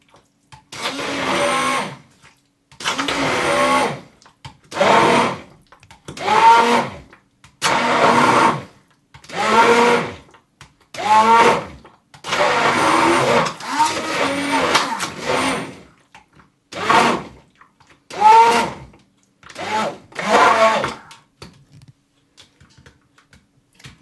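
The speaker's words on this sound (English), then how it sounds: "so now we blend it nicely," Blender pureeing carrot soup in a dozen or so loud pulses of a few seconds each, separated by short silences, grinding close to the microphone.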